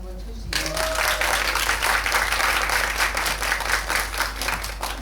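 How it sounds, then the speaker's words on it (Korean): An audience at a Q&A screening of the Korean film Intimate Enemies bursts into steady, dense applause that fills the room and holds for several seconds. "고준희 씨가 연기하신 윤남이가 멋있다고 생각하시는 분들은 박수 한번 쳐주세요."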